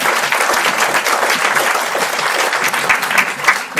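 Audience at a conference talk in Bonchamp-lès-Laval applauding steadily and fairly close for the whole stretch, a dense even patter of clapping with no voices over it.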